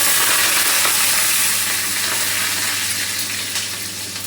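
Garlic, curry leaves, cumin and mustard seeds hit very hot oil, setting off a loud, dense, continuous sizzle that eases slightly toward the end.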